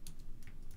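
Computer keyboard keys tapped while entering an email subject in Gmail, a short run of quiet, closely spaced clicks with no voices.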